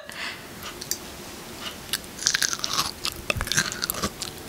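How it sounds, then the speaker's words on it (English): Close-up crunching as corn is bitten and chewed right next to the microphone, with a cluster of crisp bites and chews in the second half and no talk. "Can they hear us eating corn?"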